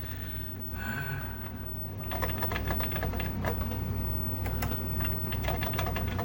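Keys clatter on an old Heathkit computer terminal keyboard that isn't working. Rapid, irregular clicks start about two seconds in over a steady low electrical hum, close and moderately loud, with no talking.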